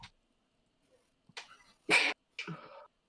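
A single sharp sneeze in a quiet room, preceded by a short breathy intake and followed by a softer trailing sound.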